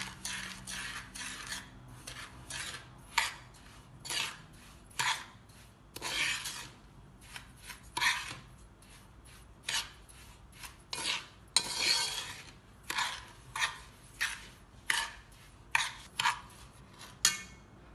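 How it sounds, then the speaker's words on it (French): A mixture with added stabilizer being stirred until smooth, likely a spoon or whisk scraping around a bowl in a steady run of rasping strokes at close range with no talking. "Je vais bien remuer le tout jusqu'à ce que ce soit homogène."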